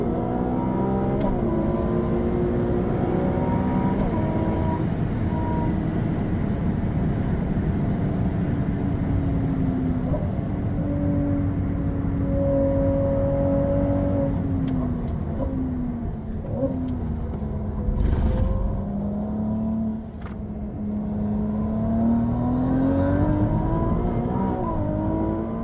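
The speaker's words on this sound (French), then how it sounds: "Je vous laisse savourer l'accélération de la 296." A Ferrari 296 GTB accelerating hard on a race track, its engine note climbing through the gears in long rising sweeps with brief dips at the shifts, a loud, continuous roar heard from inside the car.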